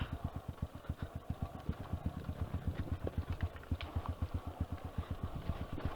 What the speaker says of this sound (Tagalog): Maingay na yung motor ko